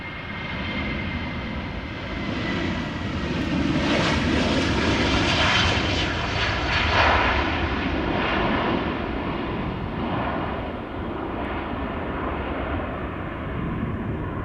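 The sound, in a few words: KLM Boeing 737-700 jet aircraft engines at Schiphol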